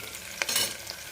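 Garlic and onions fry in a pan with a soft continuous sizzle and a quick stirring scrape, close and brief.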